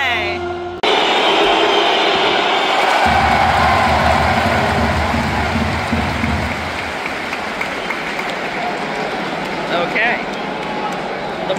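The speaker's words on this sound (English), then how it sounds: "Moroccan fans, like I said, they're here for it and they're loud. They're cheering on their team." Moroccan soccer fans at a stadium match against the USA, a loud continuous roar of crowd noise with a low rumbling swell in the middle, heard close up for the whole stretch.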